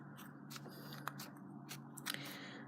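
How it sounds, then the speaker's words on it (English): Sharp scissors snip through wool for a large pom pom, giving a few quiet, crisp cuts spaced out over a faint steady background hum. "And I'm just going to cut the wool."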